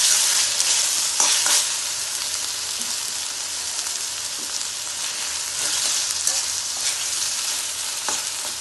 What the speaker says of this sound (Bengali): মশলাটা দিয়ে আমি এটাকেও আবার ভালো মতো নেড়ে চেড়ে দিলাম।